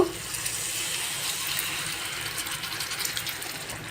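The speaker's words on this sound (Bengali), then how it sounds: "ভাজা জিরা পাঁচফোড়নের গুঁড়া ভিতর আমি হালকা একটু পানি দিব" A little water pours steadily into a jhalmuri spice mix of roasted cumin and panch phoron powder, a soft continuous trickle lasting a few seconds with no talk.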